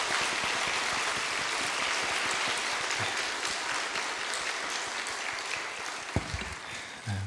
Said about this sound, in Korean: 우리 감사와 격려의 박수 한번 보내드릴까요?